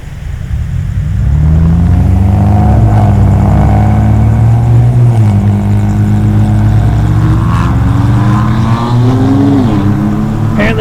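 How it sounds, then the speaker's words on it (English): Big loud cars roar and rev hard as they accelerate away in a street race near a large fountain in a research park, a loud, sustained engine drone that rises and falls in pitch. "Apparently there's a street race happening. These guys took off. Got their big loud cars."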